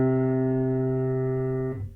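A single plucked full-length string rings as a steady harmonic-rich tone, sustaining evenly for nearly two seconds before damping out near the end, heard alone.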